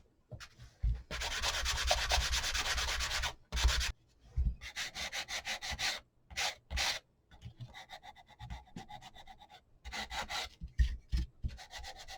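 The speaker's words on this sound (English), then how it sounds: "with my sanding block, I'm going to go ahead and I'm going to distress these" Repeated scratchy rubbing of a sanding block over wood, in bursts with short pauses, close and fairly loud, no voices.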